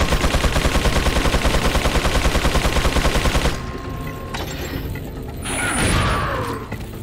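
Rapid, dense volley of shotgun blasts in Resident Evil 4 Remastered, loud and continuous for about three and a half seconds, then dropping to quieter in-game ambience with a lingering swell.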